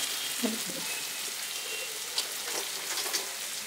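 Butter and coriander powder sizzling in a pan for pav bhaji, a steady frying crackle with scattered pops, close and moderately loud, with brief faint sounds from the cook.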